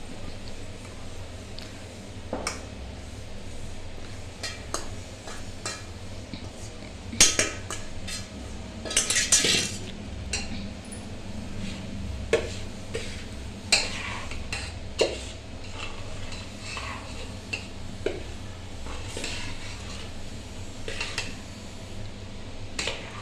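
A spoon stirs edible-gum ladoo filling into sugar syrup in a metal pot, giving scattered scrapes and bright clinks at an uneven pace over a low, steady background.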